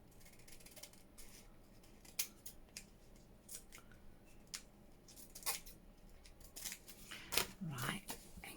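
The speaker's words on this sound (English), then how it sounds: "Trim down here without going into the envelope." Scissors snip and trim paper packaging beside an envelope for a junk journal, making quiet, close, irregular cuts with a soft voice in the background.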